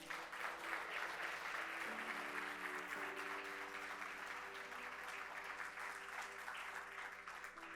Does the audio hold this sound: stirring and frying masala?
no